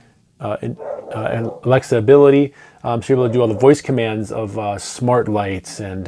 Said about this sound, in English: Excuse the dogs upstairs.